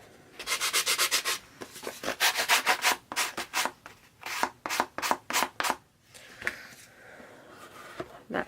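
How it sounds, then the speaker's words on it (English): A small wooden drawer piece for a mermaid box is sanded by hand in quick rhythmic back-and-forth rasping strokes, close and clear, in several bursts with short pauses between. "sand it on one side."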